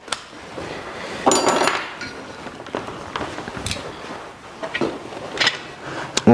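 A bicycle tyre is pried off its rim with a tyre lever during a puncture repair, making close, irregular metallic clinks and scraping knocks in bursts with short pauses between them.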